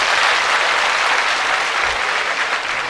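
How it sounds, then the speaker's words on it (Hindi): A large crowd at a public welcoming ceremony for a visiting spiritual leader applauds with dense, steady clapping that fills the whole stretch at an even, loud level, with no voices over it. "आप सब की ओर से तालियों के साथ"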